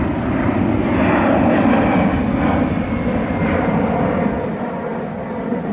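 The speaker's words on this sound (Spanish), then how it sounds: "estamos viendo a la Lucía con la moto, que es una fenómeno" A motocross motorcycle engine drones steadily at some distance as the bike is ridden around a track, a continuous buzzing roar that fades slightly toward the end.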